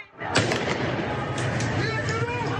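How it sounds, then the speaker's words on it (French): Gunfire from security forces at a street protest in Iran: one sharp, loud shot is followed by sustained noisy rumble, with a voice talking over it. "Les images s'arrêtent sur ses coups de feu."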